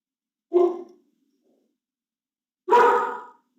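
A dog barks twice, nearly two seconds apart, each bark loud and close with nothing but silence between them.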